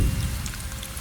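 Heavy rain pours down in a steady, dense patter of drops close by, filling the short moment with continuous hiss and no voices.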